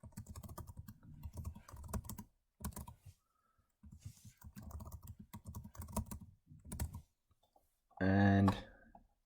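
A password typed on a computer keyboard: fast bursts of light key clicks with short pauses between them, close by, and a voice speaks briefly near the end.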